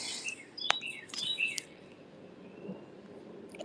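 Birds chirp by a bay in quiet outdoor air, a few sharp high tweets clustered early, then softer calls over a low steady background.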